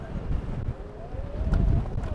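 Strong wind buffets the microphone with a low, rumbling roar that surges and fades over a couple of seconds.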